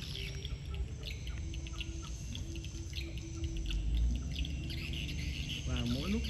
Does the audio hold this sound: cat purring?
no